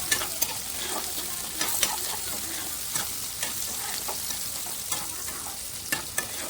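Onions and green chillies fry in a pan with a continuous close hiss, broken by scattered light clinks and scrapes of a spoon stirring them, with no voices.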